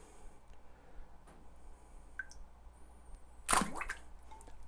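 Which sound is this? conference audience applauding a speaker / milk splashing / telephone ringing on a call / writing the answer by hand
milk splashing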